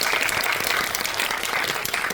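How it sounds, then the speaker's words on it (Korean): An audience at a Netflix film screening talk applauds the two actors of Aema. The clapping is dense and steady throughout. "다시 한번 박수를 좀 부탁드리겠습니다."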